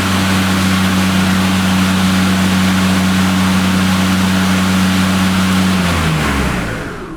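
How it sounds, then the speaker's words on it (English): An EGO battery-powered self-propelled 21-inch lawnmower with a dual-blade Select Cut system runs with a loud, steady electric whine and strong humming tones, close by, then winds down as the blades stop near the end. "It's a little louder than my basic version of this, but it's because this mower is so much more powerful and has so much more torque"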